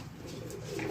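Domestic pigeons being readied for breeding coo softly from nearby, a low continuous murmur of overlapping calls with no talking.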